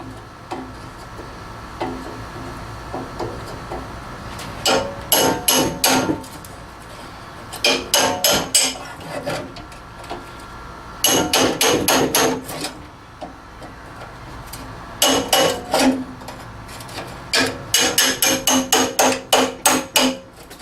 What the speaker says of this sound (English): And then the last step is to use a thin bladed chisel, such as this one.